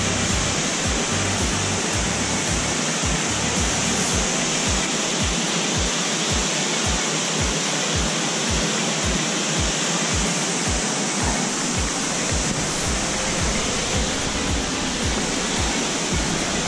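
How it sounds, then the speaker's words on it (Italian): Continuous, steady roar of a waterfall in the Prealpi Giulie mountain park, a loud broadband rush of falling water that holds unchanged throughout with no voices. "Però volevo andare a vedere un attimo la cascata"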